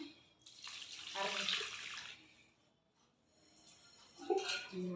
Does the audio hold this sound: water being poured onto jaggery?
yes